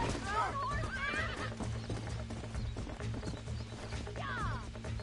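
A horse in Red Dead Redemption lets out a loud whinny, then another shrill neigh near the end, while hooves clatter steadily beneath and someone speaks over the game sounds.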